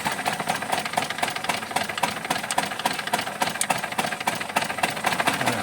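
A misfiring 2017 Nissan Almera engine at idle, running rough and uneven with irregular knocking pulses and a shaky rhythm, recorded up close.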